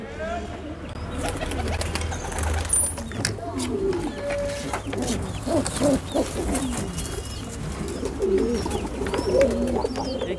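Pigeons coo repeatedly at close range, low soft calls recurring through the clip over a steady background hum, with occasional faint chirps.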